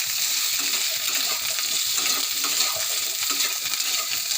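Capsicum, squash and potato frying in a pan while being stirred: a continuous bright sizzle with scattered scraping and clinking from the stirring, steady and close, without speech.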